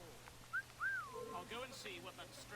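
A short whistle in the video game Assassin's Creed, a quick rising chirp followed by a longer swooping tone, faint and brief against quiet background ambience.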